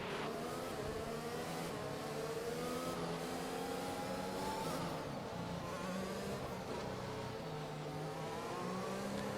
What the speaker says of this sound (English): When the field accelerates